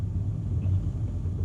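A learner driver's car engine idles as a low, steady rumble throughout, with the clutch down while the car is put into first gear during a first driving lesson.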